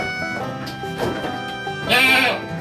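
Dairy goats of the Sapera breed bleat on a farm, several overlapping wavering calls close by, the loudest cry near the end, with no talk.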